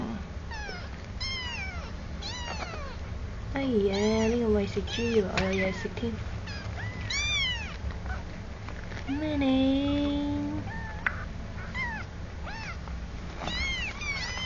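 Three kittens meow repeatedly, with some high, wavering cries close by, scattered across the stretch while a woman chats and laughs over them indoors.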